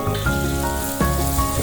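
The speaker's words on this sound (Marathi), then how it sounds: "आपला कांदा 4-5 मिनिटांपासून तेलात परततोय" Onions sautéing in hot oil on high flame for a Maharashtrian masoor curry, a steady close crackling sizzle with a couple of brief louder spatters, no voices.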